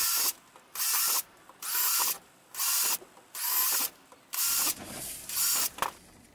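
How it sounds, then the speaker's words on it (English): A power drill with a 3 mm bit whirs in seven short, evenly spaced bursts with brief pauses between, drilling holes for a deep pipe irrigator, close and fairly loud, no talking. "get yourself a 3 millimeter drill and drill out each of the holes"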